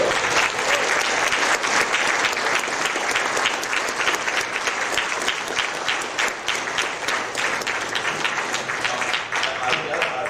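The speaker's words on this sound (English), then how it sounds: "you owe a round of applause to Cliff McMurray also." A banquet audience at an awards dinner gives sustained, loud applause, thick and even clapping from a large room that carries on without a break.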